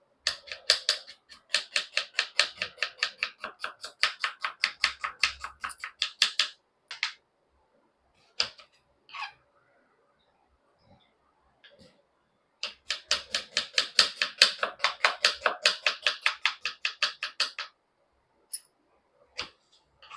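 Onions sliced on a cutting board for chicken chukka, two long bursts of quick, steady knife taps with a short pause between, then a few scattered single chops, close and crisp with no talking.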